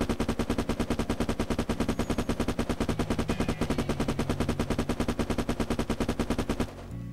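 A PPSh-41 submachine gun fires one long, rapid, evenly spaced burst in a modded video game, the steady rattle of shots lasting several seconds before stopping abruptly.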